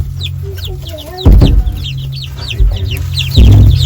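Backyard chickens and young chicks cluck and cheep continuously and close by, with a few louder bursts of noise over a steady low hum.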